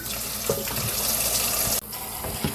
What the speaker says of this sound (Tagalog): kailangan banlawan na natin yung ating noodles